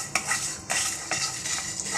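Whole spices, cardamom, cinnamon and red chillies, are dry-roasted and stirred in a pan for Kashmiri paneer yakhni, a rhythmic series of scraping, rattling strokes over a faint sizzle, close up with no talking.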